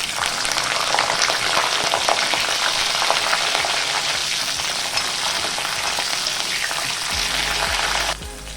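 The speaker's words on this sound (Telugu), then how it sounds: "ఇప్పుడు ఇదే నూనెలోకి పచ్చిమిర్చిని వేసి వేయించుకోవాలి." Green chillies frying in hot oil for a tomato and tamarind-leaf chutney, giving a loud, steady, dense sizzle with crackling pops throughout that eases slightly near the end.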